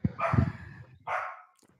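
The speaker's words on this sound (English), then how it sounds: "my dog's still barking in the background there" A dog barks in the background in two short, moderately loud bursts separated by a brief pause, with a faint trailing yip at the end.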